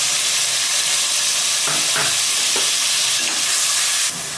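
A large cut tomato sautés in hot oil with fennel and bay leaf, making a loud, dense, continuous sizzle up close, with faint stirring scrapes partway through and the hiss easing near the end.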